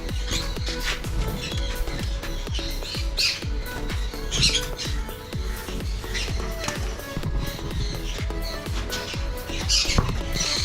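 Birds in a large home collection set in a backyard plot squawk and chirp constantly, a dense chorus of sharp, overlapping calls close by, with faint tapping underneath.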